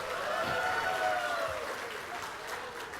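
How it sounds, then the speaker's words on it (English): An audience at a business excellence awards night in Fiji bursts into loud, dense applause with some shouting, sustained and close for a few seconds before easing slightly. "Thank you very much, ladies and gentlemen, for that very enthusiastic clap and shout."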